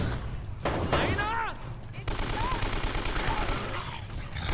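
Gunfire in the Uncharted video game, a rapid crackle of shots with sharp onsets running throughout, loud and close, mixed with game effects and a voice talking over it.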